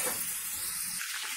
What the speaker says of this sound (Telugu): 2 మినిట్స్ వేయించుకుంటే రొయ్యలు ఫ్రై అయ్యాయి